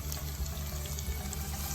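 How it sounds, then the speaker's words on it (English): About half a cup of water pours steadily into a cooking pot of green chili for a homemade iftar dish, a continuous close splashing rush with a low rumble underneath. "Now half a cup of water goes in."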